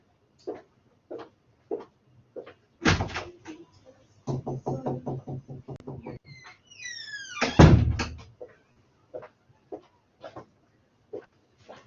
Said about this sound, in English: they're still knocking down the door